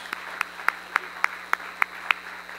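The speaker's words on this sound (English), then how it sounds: "Join me in giving them a round of applause." A small group claps in a slow, spaced rhythm at a business council awards presentation, each sharp clap standing out over a quiet room, with no other sound in between.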